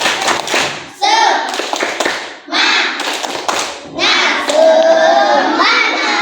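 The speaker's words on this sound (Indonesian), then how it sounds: "Tepuk semangat." A group, children among them, claps out the rhythmic tepuk semangat chant in a classroom, with bursts of quick hand claps separated by short pauses and voices mixed in.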